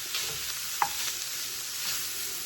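Taco meat sizzling in a pan while being stirred, a steady hiss of frying with a few light scrapes and clicks from the utensil, close and continuous, no talk.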